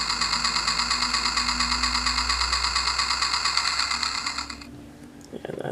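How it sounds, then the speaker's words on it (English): A John Deere 40 Series pocket watch plays an electronic old tractor sound, a steady buzzing engine-like putter with rhythmic pulses that cuts off near the end, close and moderately loud. "Press this button here. There it is. Makes an old tractor sound."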